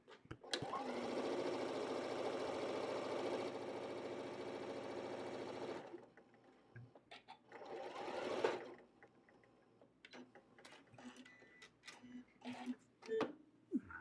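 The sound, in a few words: sewing machine stitching fabric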